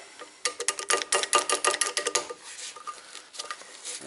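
WD-40 sprays in rapid short bursts onto a 2001 Saturn Coupe EGR valve clamped in a vise, a close, crisp hissing patter of about a dozen quick spurts, then a few sparser ones, with no talking.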